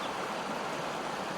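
Steady rushing of a creek flowing right beside a campground at McKay Crossing, a close, even wash of water noise with no break or other sounds over it.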